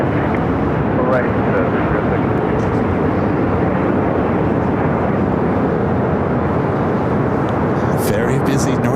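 A Super Airbus airliner on approach at LAX gives a loud, broad, continuous roar that holds steady throughout, with radio voices talking over it.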